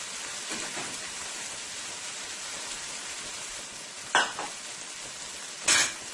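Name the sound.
shrimp sizzling while frying in a pan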